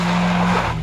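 A car engine roars at high revs while tires squeal and skid on the ground, a loud continuous drone with a steady hum beneath, close and unbroken with no talking.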